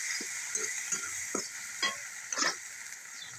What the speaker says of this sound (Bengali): মশলাটা খুব সুন্দরভাবে কষায় নিতে হবে।